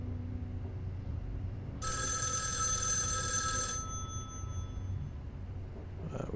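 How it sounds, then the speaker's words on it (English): A telephone rings in the video game Erica: one bright, steady electronic ring burst of about two seconds stands out over a low background hum, then fades. No one speaks. "Phone about to go ring ring."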